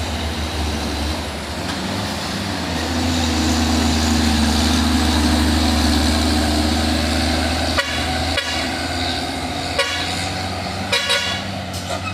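An Isuzu truck with a Thermo King refrigerated box runs its engine steadily, sounding a few short honks near the end of the passage.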